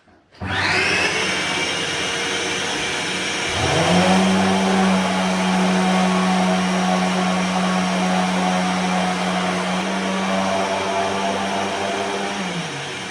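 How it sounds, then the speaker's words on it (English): A Dexter sander hooked to a Dexter vacuum for dust extraction runs continuously at close range while doors are worked on in a French country house. A steady, loud whining drone is joined partway through by a lower sustained hum. "connecting the Dexter sander into a Dexter Hoover works a treat to keep the dust away"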